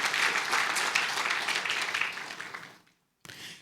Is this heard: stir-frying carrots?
no